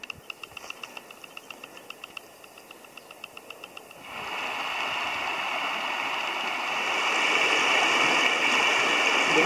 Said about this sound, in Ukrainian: А що там шумить? Там дамба.